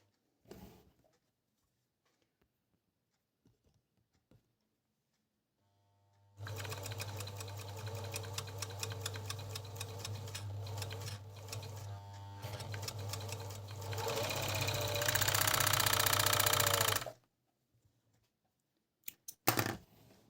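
A Juki MO-814 overlocker stitching through a very thick fold of fabric runs in one steady loud mechanical whir for about ten seconds, speeding up toward the end, then stops; quiet handling noises before and after.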